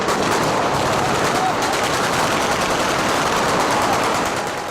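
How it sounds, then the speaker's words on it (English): Incoming gunfire in a Libyan building: a loud, dense, unbroken stretch of rapid automatic shots. "Then, incoming fire."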